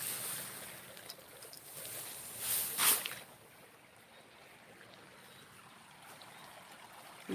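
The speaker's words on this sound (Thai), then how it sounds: "น้ำไหลค่ะ" Floodwater on the second day of flooding rushes over a rice field in a steady, broad outdoor wash, with a brief louder surge partway through and no talking.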